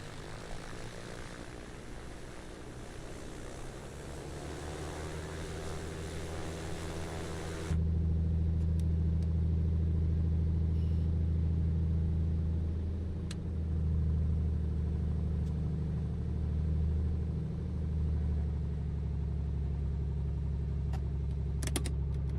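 A Comanche propeller airplane drones steadily in flight over Tanzania's wild terrain, loud and continuous, with the engine note deepening and growing fuller partway through as the cabin sound shifts.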